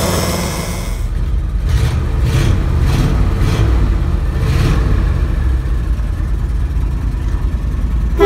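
A 1967 Dodge Coronet on the move, its engine giving a loud, steady rumble with dense road and drivetrain noise that carries unbroken through the whole stretch.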